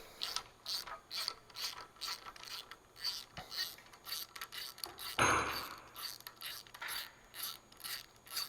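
A ratchet cleans the bolt threads on a 1940 Ford engine block, its pawl clicking in repeated quick bursts up close, with a sharper scraping rasp partway through.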